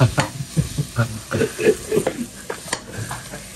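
Spaghetti sauce ingredients sauté in a pan, crackling and sizzling under repeated stirring scrapes, close and lively in a vacation-house kitchen, with faint voices mixed in.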